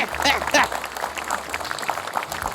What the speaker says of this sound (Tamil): பெரிய கைத்தட்டல் கொடுக்கலாங்க